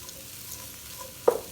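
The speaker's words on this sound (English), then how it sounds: "I'm going to add 2 tablespoons of butter, and I'm going to go ahead and add my peppers and onions" Peppers and onions sautéing in butter in a skillet give a faint, soft sizzle, with one brief clink of a utensil near the end.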